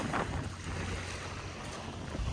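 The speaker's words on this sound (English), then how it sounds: "That wind coming off the water is definitely cold." Cold wind blows off the water at a beach by the ferry route to Guemes Island, making steady gusty rushing and microphone buffeting with faint waves beneath and no voices.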